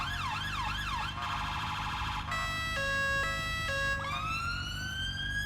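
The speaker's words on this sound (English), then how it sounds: "whilst the blue lights are on, it activates the siren" A loud electronic police car siren in the video game GTA cycles through several patterns: a fast wavering yelp, a rapid warble, a two-tone hi-lo, then a rising wail.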